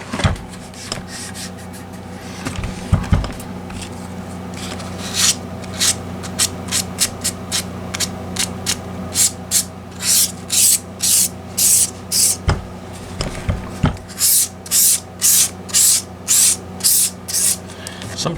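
A Gibson SG guitar neck has its clear coat sanded by hand, a loud, close, raspy rubbing that starts as quick strokes and settles into a steady back-and-forth rhythm, over a constant background hum.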